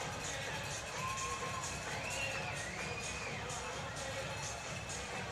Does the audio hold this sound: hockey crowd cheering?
yes